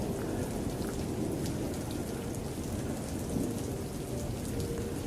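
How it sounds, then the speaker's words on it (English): Steady heavy rain beats down throughout a thunderstorm, with low rumbling thunder rolling beneath the dense downpour and no voices. "We seen this in the middle of a thunderstorm."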